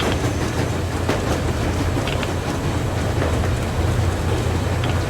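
A train rolls along steadily in the post-apocalyptic game Metro Exodus, a loud continuous rumble with faint rhythmic clatter from the wheels and no voices.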